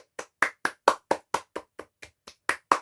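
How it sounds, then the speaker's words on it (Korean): Slow, evenly spaced hand claps, about a dozen sharp slaps in steady rhythm, close and clear with no talking. "박수 한번 쳐주세요"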